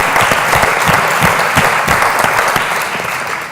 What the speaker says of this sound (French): Je crois qu'on peut applaudir les intervenants.